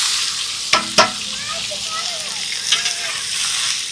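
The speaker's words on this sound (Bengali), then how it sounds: "মশলাগুলো ফ্রাই হয়ে গেছে, তো দিয়ে দিচ্ছি কাঁচা পেঁয়াজ।" Raw onions hit hot oil already frying with dried chillies, cumin, panch phoron and bay leaves, a steady sizzle broken by a couple of sharp clatters of utensils and faint background voices.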